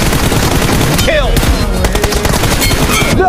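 Rapid automatic gunfire rattles nonstop in a first-person shooter game, loud and dense. Sharp game effects and voice announcements cut in briefly over the barrage.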